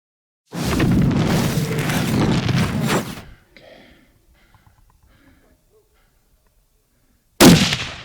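A single loud rifle shot during an ibex hunt in the Beceite mountains of Spain, a sharp broadband blast that rolls on for a few seconds before fading into near silence, then a second loud burst at the end.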